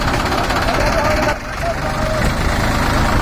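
A Mahindra 265 tractor engine runs at idle, a steady, loud, rough diesel throb that fills the whole stretch with only a brief dip in level midway.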